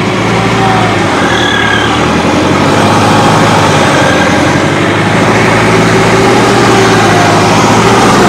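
A modified tractor's turbocharged diesel engine with a reworked diesel pump runs steadily at close range, a loud, continuous low rumble with no break for the whole stretch.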